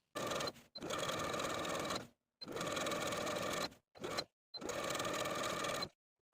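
Sewing machine edge stitching close to the finishing stitches along the pressed bottom hem of a skirt, running in four loud bursts of steady whirring separated by short pauses.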